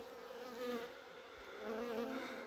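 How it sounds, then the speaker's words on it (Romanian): Honeybee swarm buzzing near a hive, a dense, steady drone that swells and fades softly, fairly faint with no voices. "Revin, vă arăt roiul de lângă."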